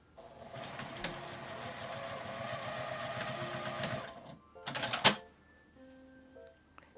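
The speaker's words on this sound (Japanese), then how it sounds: "ダーツを縫います。" A sewing machine stitches darts in a fabric scrap, running as a close, steady whir of rapid needle strokes for about four seconds. It stops, then gives a short burst and a few mechanical clicks.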